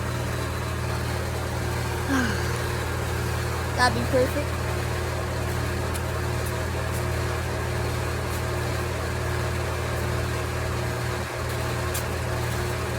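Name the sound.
air conditioning unit running outdoors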